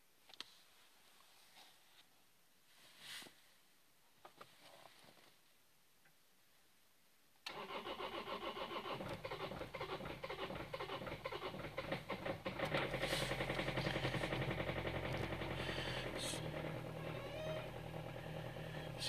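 A diesel car engine starting at minus 12 degrees with summer diesel in the tank: quiet clicks and ticks, then the engine fires and settles into a loud, steady rough idle close by.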